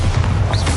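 Bombarda spell explosion in Hogwarts Legacy, a single loud, deep booming blast filling the whole moment with a heavy low rumble and no voices.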